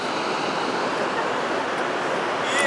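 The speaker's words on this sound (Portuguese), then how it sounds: "A água tá caindo assim, né?" The Tabuleiro waterfall in Brazil pours in a steady, dense roar of falling water, loud and unbroken throughout.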